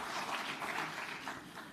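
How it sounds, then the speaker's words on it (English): A conference audience at an African urban forests forum claps for the panelists, a steady, moderately faint patter of applause from a crowd. "Big round of applause again to the panelists."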